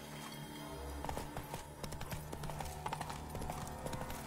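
Horse hooves clip-clop at a steady galloping rhythm in the video game Fortnite, fairly close and even throughout, with no talk over them.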